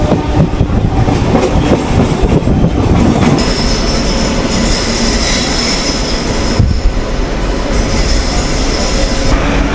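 A Howrah–Digha local train rolls into Santragachi station, a loud close rumble of wheels on rails with squealing and steady clatter throughout.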